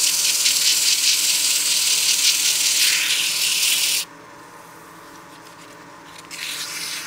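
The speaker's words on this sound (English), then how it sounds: "I'll use my palm to sand the top of the finial." Sandpaper rubbing a spinning wooden birdhouse ornament finial on a lathe makes a steady, loud hiss, which cuts off abruptly partway through to a quieter motor hum before a brief burst of sanding returns.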